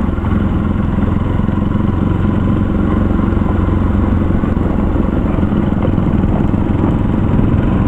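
A motorcycle engine drones loudly and steadily on a dusty dirt road, a continuous close rumble with some clatter and no speech.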